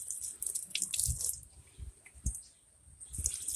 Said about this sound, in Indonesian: Kita bilas, kita siram dari atas agar airnya meluncur ke bawah.